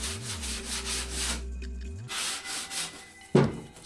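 Sandpaper rubbing over a camper panel during reupholstering, heard as close, steady back-and-forth scratchy strokes in several bursts, with a sharper scrape near the end.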